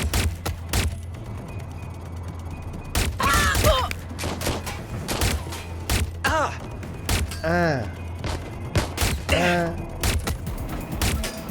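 Bursts of gunfire in the Watch Dogs Legion video game, sharp repeated shots and thuds scattered throughout, mixed with voices talking and groaning over the firefight.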